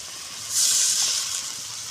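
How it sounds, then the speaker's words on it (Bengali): A little water goes into a hot wok where koi fish is frying, giving a short, bright hiss that swells and then eases off over under two seconds. "এবার জল দিয়ে দেবো, অল্প জল দিয়ে দেবো।"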